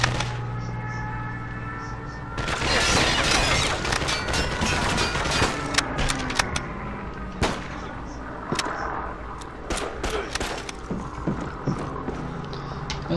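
Call of Duty 2 battle with sharp gunshots and rifle bursts cracking at irregular intervals, some near and loud, others more distant, mixed with shouted voices over a dense combat din.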